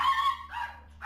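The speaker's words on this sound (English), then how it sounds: "their current dog, Bitsy, is coping by barking incessantly" A dog named Bitsy barks twice in quick succession, close and loud, with a short gap between the sharp yaps.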